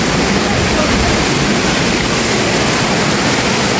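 Bukal Falls waterfall roaring loud and close, a dense, continuous rush of falling water that fills the scene without a break.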